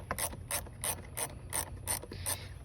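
A ratchet loosens a bolt on a car's intake boot while a throttle body is being cleaned, giving about eight quick, evenly spaced clicking bursts, close and crisp with no talking.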